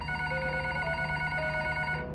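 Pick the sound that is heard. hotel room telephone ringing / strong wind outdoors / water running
hotel room telephone ringing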